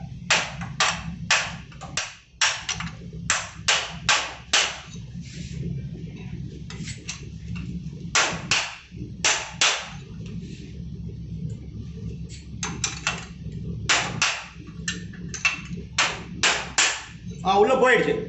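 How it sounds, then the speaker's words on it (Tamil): Hammer blows drive a metal plate into place on a machine after a bolt is loosened, sounding as sharp, loud metallic strikes in rapid bursts with short pauses between, close to the microphone. "இந்த போல்ட்டை ரூஸ் விட்டு இந்த பிளேட் அடிச்சிக்கணும் உள்ள."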